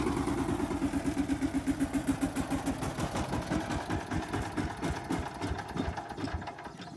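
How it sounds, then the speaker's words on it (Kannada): A VST Shakthi 130 DI power tiller engine chugging in a fast steady diesel rhythm close by, then slowing and fading as it is throttled down to stop, no voices. "ಜಸ್ಟ್ ಈ ಎಕ್ಸಲೇಟರ್ನ ಡೌನ್ ಮಾಡಿದ್ರೆ ಆಯ್ತು, ಸ್ಟಾಪ್ ಆಗ್ಬಿಡುತ್ತೆ"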